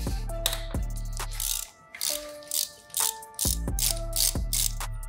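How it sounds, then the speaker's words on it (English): Ratchet socket wrench with a 32mm socket slackening the rear wheel nut on a dirt bike, heard as several close, loud bursts of rapid clicking ratchet strokes separated by short pauses. "32mm socket, we're gonna slacken the rear wheel off"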